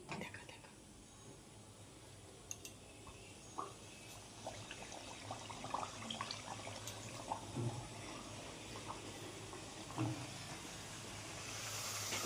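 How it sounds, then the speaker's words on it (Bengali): Palm luchi, a Bengali fried bread made with palm fruit, frying in hot oil: a quiet, steady hiss with scattered small pops and bubbling crackles, close and alone without talk. "গরম তেলে ছেড়ে দিলাম তালের লুচি"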